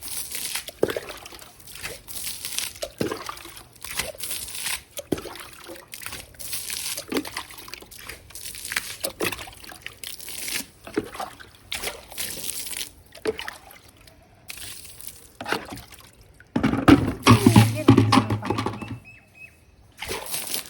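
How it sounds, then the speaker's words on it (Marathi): Water is thrown and sprinkled across a house's back courtyard in a repeated series of close splashes and spatters, with a louder, denser stretch toward the end. "इथे सडा टाकते मी, पाणी टाकून घेते."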